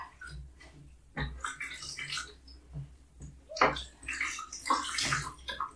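Water is poured and splashed close by while a person's legs and feet are washed, with uneven bursts of trickling and sloshing separated by short quiet gaps.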